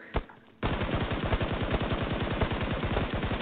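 Automatic gunfire in the shooter game Peacekeeper Elite: a single sharp shot, a short pause, then a long, steady, rapid burst that runs to the end, loud and close, with no talking.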